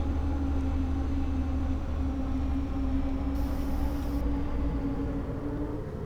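An ÖBB 5047 diesel railcar in the Railworks train simulator slows under a mix of power and braking, a steady low rumbling engine drone with constant rail noise running throughout, no talking.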